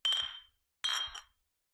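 Two bright clinks of beer glasses meeting in a toast, each ringing briefly and decaying, close and alone with no talk during the strikes.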